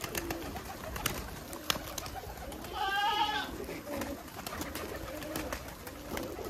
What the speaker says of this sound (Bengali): খই ফুটার মতন করে খাচ্ছে কবুতর।